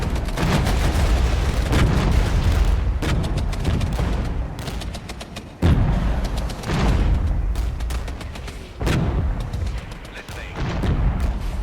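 Centurion tanks firing their guns in the war game Regiments, heavy booming shots and bursts of gunfire repeating across the battle, with radio-style voices talking over the noise.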